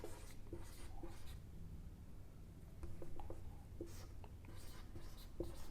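Chalk or marker writing on a board during a chemistry lecture, heard as faint, intermittent scratchy strokes and taps in short bursts, quiet and somewhat distant in a room.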